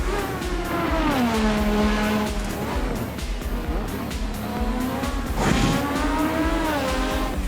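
A Formula 1 race car engine in a racing video game screams at high revs, its pitch climbing through the gears, dropping sharply on a downshift, then rising again, with tires squealing under hard cornering.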